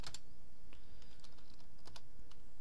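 Keys clatter on a computer keyboard as commands are typed into a Linux terminal, a few quick clusters of crisp close taps with short pauses between them and no voices.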